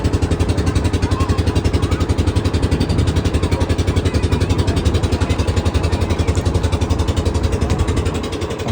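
A ferry boat's motor runs steadily on the Ganges river mid-crossing, a loud, rapid, even engine chug with rattling clatter holding constant throughout and easing slightly at the end; no talk.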